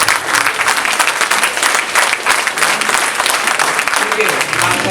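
An audience at a Navodaya Kannada Seva Sangha cultural programme in Thane claps, with sustained, dense, loud applause filling the hall throughout, and voices mixed into the crowd noise.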